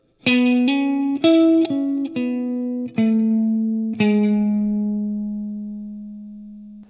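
An electric guitar picks a slow run of distinct notes from a solo, about eight plucks with a wet, effected tone, ending on a long sustained low note.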